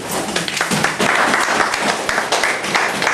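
A congregation at a prophet's church service breaks into lively applause, close and fairly loud clapping that carries on briefly with scattered voices underneath.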